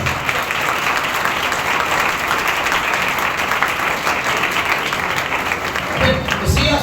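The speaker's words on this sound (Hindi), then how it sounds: "तालियां बजानी तो सही तरह।" A church congregation clapping steadily and loudly throughout a Sunday service, a dense continuous wash of applause that shifts slightly near the end.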